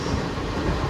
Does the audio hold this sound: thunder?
no